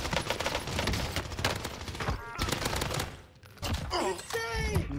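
Rapid automatic gunfire from a Call of Duty battle on Rebirth Island, loud and dense bursts filling most of the stretch, briefly dropping before resuming with more shots and game effects.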